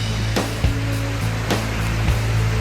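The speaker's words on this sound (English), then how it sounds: "You can see the waterfall now." A waterfall at Hocking Hills State Park, heard from under a rock ledge, gives a loud, steady rushing roar, broken by a few brief thumps close by.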